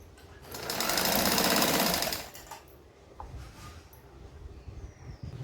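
A sewing machine stitches the back and front pieces of a 40-inch katori blouse together at the underarm, a close, steady whirring burst of about a second and a half followed by quieter handling clicks.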